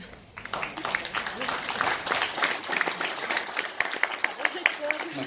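A seated conference audience breaks into sustained applause, dense clapping from a full hall that holds steady and thins slightly toward the end.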